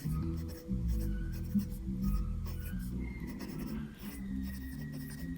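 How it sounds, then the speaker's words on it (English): A stub nib fountain pen scratches across paper while an ink name is written out, a quiet run of short strokes close to the microphone, soft and dry. "I'm gonna write down the name."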